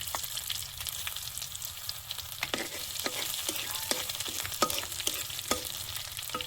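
Cumin seeds, a bay leaf and crushed garlic fry in oil for a pangas fish and potato curry, a soft, fairly quiet sizzle broken by light spoon taps and scrapes at irregular intervals.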